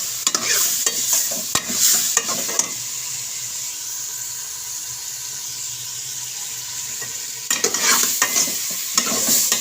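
Meat fries in a small amount of ghee with whole coriander seeds, a steady sizzle broken by bursts of scraping and stirring at the start and end, close up with no talking.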